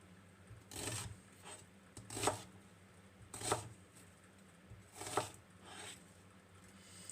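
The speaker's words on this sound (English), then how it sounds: "I don't usually cut the onions on camera, do I?" A knife chops through onion on a cutting board at home, four main crisp cuts landing in a loose rhythm, each with a short gritty rasp, near and moderately quiet, with no talking.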